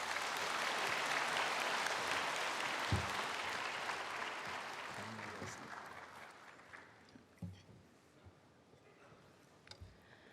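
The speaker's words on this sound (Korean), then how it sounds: "나오실 때 우리 모두가 다 따뜻한 박수로 환영해 주십시오" A church congregation claps warmly to welcome a speaker. The applause is loud at first, then thins to scattered claps and fades, with faint voices near the end.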